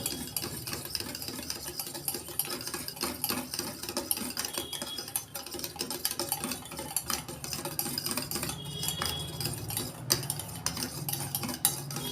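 Chicken being beaten with green chilli sauce and a little soy sauce in a bowl, a steady run of close clinking and scraping strokes against the bowl that continues without talk.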